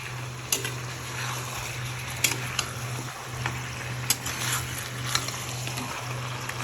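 Browned onions fry with mutton in a pan, a steady close sizzle broken by periodic scraping stirs and soft clinks over a constant low hum.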